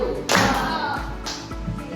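Schoolchildren in an elementary classroom clap once together on the teacher's command, a sharp loud burst followed by a second, lighter clap and a brief scatter of taps.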